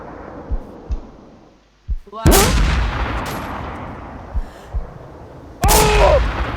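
Gunfire in the zombie video game The New Z: a few soft thuds, then two loud, close blasts several seconds apart, each followed by a lingering noisy tail.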